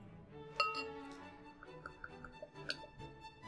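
Glass clinks sharply as a bottle of Grand River pumpkin ale is opened and handled, with one bright chime near the start and another later, plus softer taps and small knocks in between.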